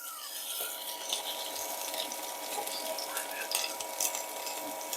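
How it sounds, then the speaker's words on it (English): A skin-on salmon fillet for a honey glazed dish sizzles in a hot frying pan, held flat while the skin crisps, giving a steady close crackling hiss with small pops throughout. "Love hearing that sizzle."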